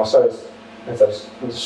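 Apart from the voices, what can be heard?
No distinct noise like a dog, phone or traffic.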